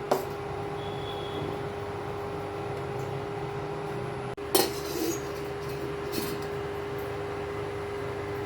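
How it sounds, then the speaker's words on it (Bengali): A metal lid is lifted off a pressure cooker of sambar dal with carrot, drumstick and onion. One sharp clank rings out midway against a steady kitchen hum, followed by a few lighter clinks. "সাম্বারের ঢাকনাটা খুলে নিলাম।"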